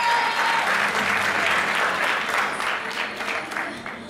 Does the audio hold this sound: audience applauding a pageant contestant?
yes